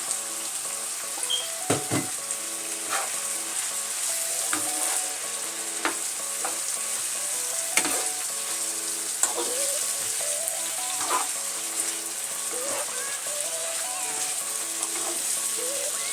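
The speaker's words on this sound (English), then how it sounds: "right now I'm gonna add my carrots to the pot" Carrots added to a pot of sautéed Jamaican steamed cabbage and saltfish, a steady loud sizzle and frying hiss with scattered stirring clinks and scrapes throughout.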